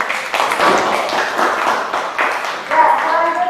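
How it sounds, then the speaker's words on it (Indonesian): Schoolchildren in a classroom clap their hands together after a group presentation, a short burst of scattered claps mixed with a teacher's voice talking over them. "Kita tepuk tangan."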